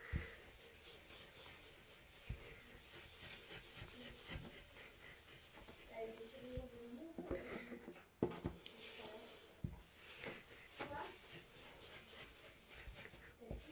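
Soft, close scratchy rubbing of a blending stump smudging dark pastel on paper, with faint intermittent strokes and quiet rasps at low level.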